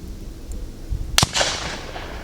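A Palma target rifle fires once on a 500 m range at Saint Antoine, a single sharp crack followed by a short, broad rumbling tail, against quiet outdoor background noise.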